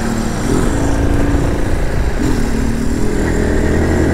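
Nova Shi 175 EFI motorcycle on the move, its engine droning loud and steady up close with strong wind rush, a slight pitch rise as it pulls along the street.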